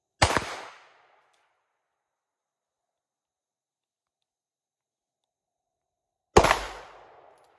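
Two sharp gunshots from a new gun, each a loud single crack with a short decaying echo, separated by about six seconds of silence.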